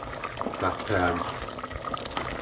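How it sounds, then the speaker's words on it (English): Stock boils steadily in a pan of mushroom risotto, a continuous bubbling hiss with someone talking over it throughout. "It hasn't got to be going dead fierce, but it's got to be boiling."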